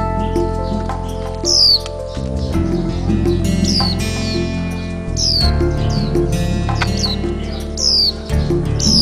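Japanese white-eye nestlings, about fifteen days old in a nest in a passion fruit vine, give repeated high thin chirps in short bursts throughout, over a low steady background hum, with no talking.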